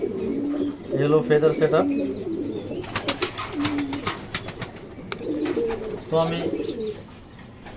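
Male racing pigeon cooing close by in a loft, soft repeated coos alternating with someone talking throughout.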